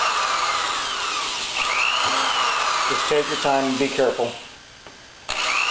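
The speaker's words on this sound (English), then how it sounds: "we're just drilling a series of holes on the inside of the line" A steady whine of a drill boring a series of holes into a plastic motorcycle top case backed by a wood block runs nearly throughout, with a person speaking over it before the motor briefly cuts out.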